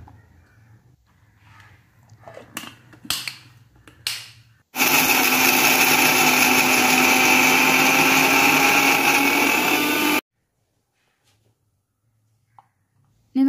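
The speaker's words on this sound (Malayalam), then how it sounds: "ഇനി നമുക്കിത് മിക്സിയുടെ ജാറിലിട്ട് പൊടിച്ചെടുക്കാം." A kitchen mixer grinder pulverises washed, towel-dried coconut in its jar, a loud steady whir lasting about five seconds and stopping abruptly, with scattered clicks and handling noises before it and near silence after.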